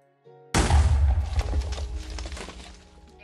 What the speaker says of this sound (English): However, it does make a pretty big explosion